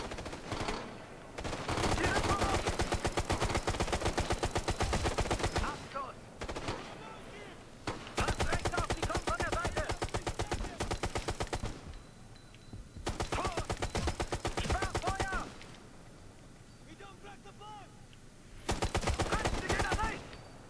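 Sustained bursts of rapid automatic gunfire from a machine gun in the game Ghost Recon: Future Soldier, loud and dense, several long volleys separated by brief pauses.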